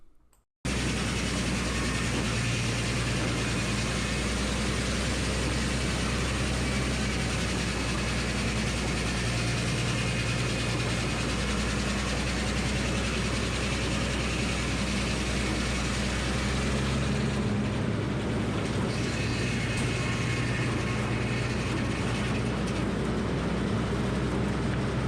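An old Frick sawmill cutting a locust log gives a loud, continuous mechanical roar with a steady low drone and a grinding blade whine that runs unbroken nearly the whole time, easing slightly toward the end.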